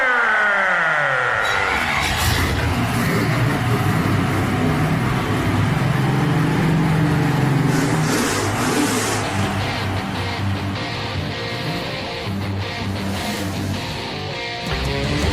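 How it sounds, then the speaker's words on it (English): Racing car engines start up and roar continuously at high volume, revving and rising in pitch over a dense, sustained rumble with no pauses. "Gentlemen, start your engines!"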